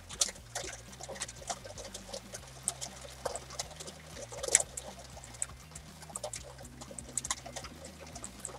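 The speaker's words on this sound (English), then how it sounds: "the rain on the window next to me" Rain patters on a nearby window in soft, irregular taps and light ticks, faint and close, with a low steady hum in the background and no talking.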